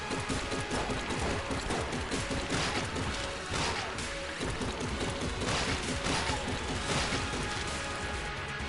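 Rapid continuous gunfire from the cheese gun in the game Enter the Gungeon, a dense, unbroken stream of shots and impacts mixed with other game effects, with no talk.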